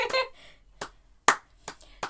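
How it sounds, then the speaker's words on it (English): A few sharp, widely spaced single hand claps ring out close by in a slow rhythm, with a voice talking between them. "Slow clap."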